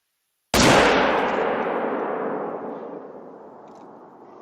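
A single sharp, loud rifle shot is fired at an animal in a hunting video game, followed by a long, rolling echo that slowly fades across the open landscape.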